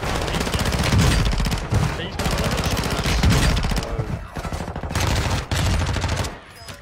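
Heavy gunfire in the Call of Duty Warzone 2.0 video game, with dense rapid bursts of automatic fire that go on almost without a break, loud and close, briefly easing near the end.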